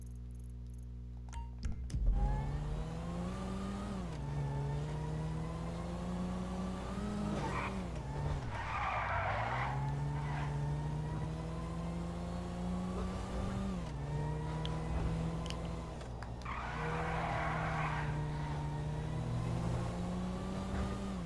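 Car engine in GTA 5 droning steadily and rising and falling with throttle, with two bursts of tire skidding mid-drive, loud and close, no talking.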